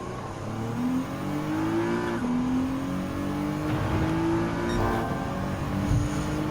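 A turbocharged car in Gran Turismo 7 accelerates hard down a final stretch toward a tunnel, its engine note climbing steadily through the gears with rising whine, loud and close throughout, no voices.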